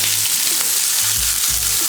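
Shallots, green chilies, ginger and curry leaves frying in hot oil, giving a loud, steady, close sizzle with faint stirring bumps underneath.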